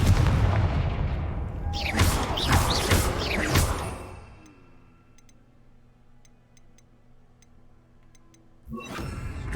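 Confringo fire spell cast in a Hogwarts video game, a burst of loud crackling blasts and whooshes lasting a few seconds, followed by quiet ticking and another burst at the end.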